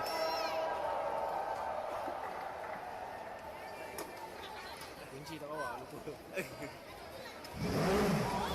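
Race car engines fire up in a racing video game at Motegi, revving and buzzing under a commentator's voice, with a rising engine roar near the end.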